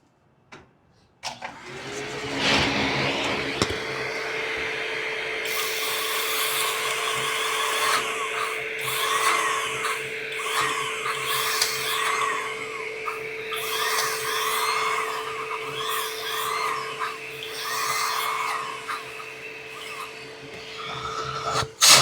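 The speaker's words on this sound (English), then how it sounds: "All right, so we're gonna bevel these out real quick." Beveling the drilled finger holes of a 16lb Storm Hy-Road bowling ball: a sustained high-pitched whine from a spinning tool, loud and close, with rasping grinding pulses as it bites in, no talking.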